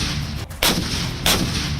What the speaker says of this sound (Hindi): ये तोप 15 सेकंड के अंदर 3 गोले दागने में सक्षम है।